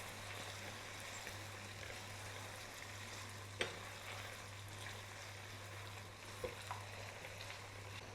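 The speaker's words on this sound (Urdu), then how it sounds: "کٹا ہوا لہسن اور ادرک ڈالیں گے، یہ تقریباً 2 ٹیبل سپون ہے، اور اس کے ساتھ ہی اس کو بھون لیتے ہیں" Chopped garlic and ginger, about two tablespoons, sizzling steadily in hot oil for chicken karahi, an even, close frying hiss with a couple of soft stirring knocks.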